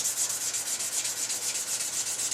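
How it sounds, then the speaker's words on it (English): Wet 400-grit sandpaper rubs along a steel shotgun barrel in steady, rapid back-and-forth strokes, a close, hissing scrape repeating evenly throughout. "I'll start polishing it with the wet 400 grit sandpaper"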